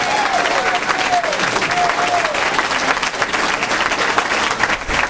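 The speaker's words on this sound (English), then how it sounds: "We're clapping for all the people outside." A crowd indoors at a community question-and-answer event claps loudly and continuously, a dense wash of applause with a few voices calling out and a whistle-like tone drifting through the early seconds.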